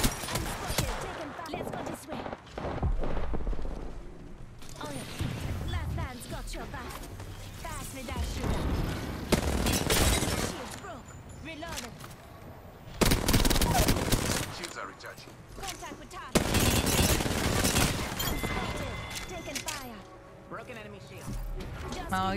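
Automatic and rapid gunfire from an Apex Legends ranked match, dense bursts of shots coming in waves throughout, mixed with game effects and a player talking over the action.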